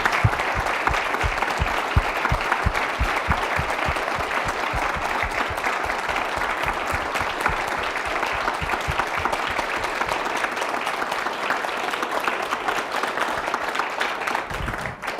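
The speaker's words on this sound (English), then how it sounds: "Will you join me in thanking them with your applause?" Sustained applause from a large audience at a healthcare summit, dense rapid clapping that holds steady throughout and tapers slightly at the end.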